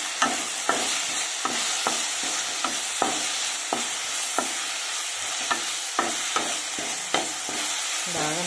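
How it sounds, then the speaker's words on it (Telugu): Tempering spices frying in a pan for gongura pulihora, a continuous sizzle broken by regular sharp scrapes and stirs roughly every half second, close and steady with no talking. "తర్వాత పోపు వేసుకోవాలి."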